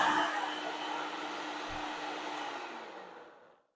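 A kitchen machine grinds granulated sugar finer for a lemon poppyseed pound cake, a loud steady whirring roar that runs nearly four seconds before cutting off and spinning down.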